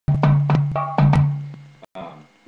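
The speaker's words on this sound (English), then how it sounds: "This is the sound of my Dragonfly Dumbek that I have on Etsy." A Dragonfly dumbek hand drum struck in a quick run of sharp close strokes, with ringing tones decaying between hits, a brief pause and then a softer final tap.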